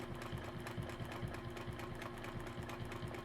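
A domestic sewing machine quilting a kite design on a quilt runs with a quiet, continuous mechanical hum and a rapid, regular pulsing rhythm throughout, close by and with no talking.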